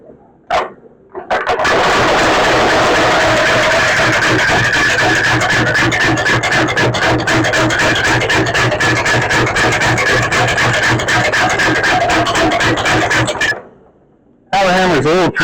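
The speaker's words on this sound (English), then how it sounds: "Power hammer's a little persnickety when you first wake her up." A power hammer thumps steadily for about twelve seconds in a forge workshop during material prep, a dense run of rapid blows with a low hum, starting and stopping abruptly.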